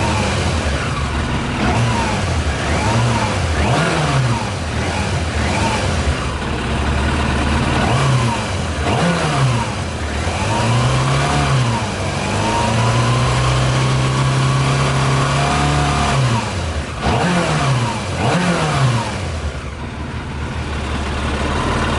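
A Yamaha motorbike engine runs on whisky in the tank, revving up and down over and over in uneven surges over a steady loud idle, close to the microphone, with no talking.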